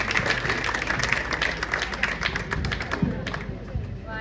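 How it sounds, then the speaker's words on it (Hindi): Audience applause welcoming an English teacher onto a stage at a school event, a dense patter of hand claps with scattered louder thumps over a few seconds, mixed with crowd voices. "So with your huge round of applause I would like to call him here on the stage."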